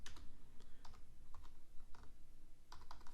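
Fingers type code on a computer keyboard in uneven bursts of close, clicky keystrokes, with short pauses between clusters and no talking.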